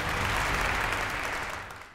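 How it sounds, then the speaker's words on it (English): Applause welcoming a keynote speaker at a business awards show, a steady broadband wash of many hands clapping that fades slightly toward the end, with no voices. "can we have a round of applause to welcome him?"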